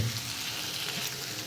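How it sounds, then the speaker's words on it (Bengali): Potato, eggplant and bean pieces fry in a pan, giving a faint, steady sizzle with soft crackle and no talk. "আজকে ভাজি করতেছি আলু,"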